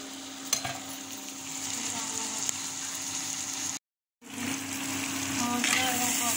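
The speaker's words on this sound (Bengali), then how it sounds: "কলার ঠোঁট মুসুর ডাল দিয়ে মশলা দিয়ে" Banana flower frying with spices and lentils in a pan, a continuous close sizzle with faint stirring scrapes, briefly cut to silence midway before the frying resumes.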